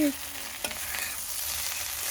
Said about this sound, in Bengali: ভেন্ডি ভাজি করতেছি